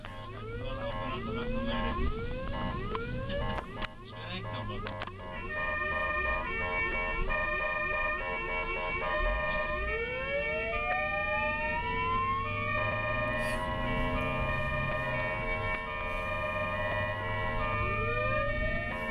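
Ambulance sirens from several countries wail and yelp continuously, rising and falling sweeps and rapid warbles layered over steady traffic noise throughout, loud and close.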